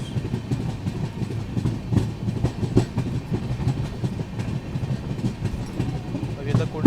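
The Konkan Kanya Express rolls past with a steady rumble and dense clickety-clack of wheels over rail joints, loud and close, with no voices.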